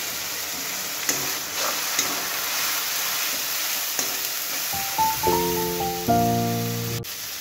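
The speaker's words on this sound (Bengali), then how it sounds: "সুন্দরভাবে মশলা ভাজা হয়ে গেছে।" Spice paste fries with browned onions, turmeric and green chili in a pan, giving a steady close sizzle with occasional stirring scrapes, joined near the end by a brief tonal melody.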